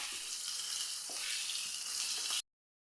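Banana and coconut sautéing in a pan give off a steady, soft sizzle with a few faint stirring touches, and the sound cuts off abruptly near the end.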